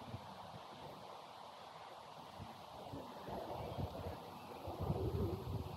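Strong wind gusts buffet a microphone outdoors beside a grassy landing field, a steady broadband rumble and hiss that swells louder toward the end, with no voices.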